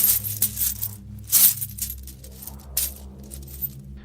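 Gold coins clinking and dropping against one another in a few bright, short metallic bursts, fairly close, with quiet low hum between them and no talk.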